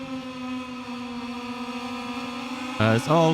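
Motorcycle engines in the video game MotoGP 21, a steady high droning whine held at one pitch, then a second bike's engine rising abruptly and loudly near the end.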